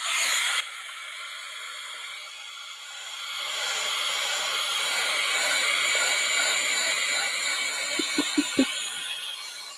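A heat tool blows hot air over wet acrylic paint, a continuous loud whooshing hiss that swells slightly and holds steady, ending with a few quick clicks.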